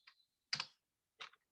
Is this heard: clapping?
no